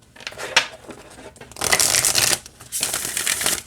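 Oracle cards being shuffled by hand, a soft papery riffle that swells into two dense, loud bursts of flicking card edges close by, with no talking.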